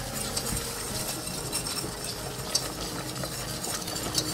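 A whisk stirs flour into melted butter in a pan for a lasagna sauce, giving steady scraping and swishing strokes with faint sizzling and an occasional clink against the metal, close up and with no talk.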